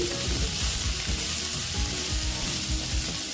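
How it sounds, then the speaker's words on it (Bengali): Chopped tomatoes fry in a pan for a soybean dish, producing a dense, close sizzle broken by rhythmic stirring scrapes. "টমেটো কুচিগুলো দিয়ে আবার আমি এটা ভেজে"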